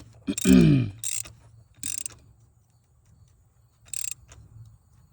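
Ratchet tightening a spark plug on a 2013-2019 Ford Escape 1.5L engine: a few short bursts of clicking, near and fairly loud, separated by pauses, with a low hum underneath.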